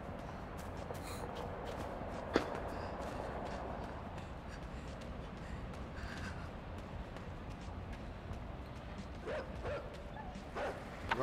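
Dogs bark faintly in the video game Inside, scattered short yips and woofs over a low ambient game background, distant and quiet with no talk.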